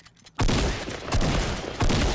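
Fortnite gunfire erupts after a short quiet moment, three loud bursts of rapid shots close up, each stopping briefly before the next.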